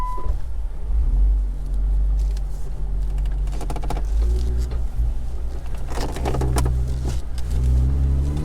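A Jeep Wrangler JKU fitted with a Bestop Supertop Ultra drives steadily after being shifted into four-wheel drive, its engine a loud, continuous low rumble with some rattling and road noise.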